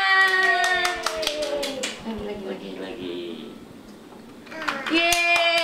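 A small child claps hands along with adult encouragement during a color-sorting toy game at home, scattered sharp claps mixed with bright sustained toy-music tones and voices.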